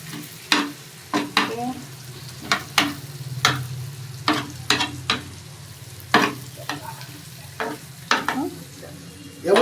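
A fish head fries in a pan for chilli fish, with a low steady sizzle under a dozen or so irregular, sharp scraping strokes of a spatula, close and distinct.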